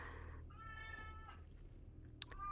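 A cat meows in agitation, a drawn-out wavering cry followed by a short sharp yowl, fairly close over a low steady background hum.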